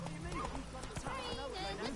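Hooves of Roach, the horse in The Witcher 3, clopping in a quick rhythm under a voice, with a brief whinny-like sound in the mix.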